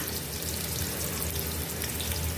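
Chopped onion, garlic and ginger frying in about half a cup of cooking oil in a pan, giving a dense, continuous hiss and crackle, close and even throughout, with no voices.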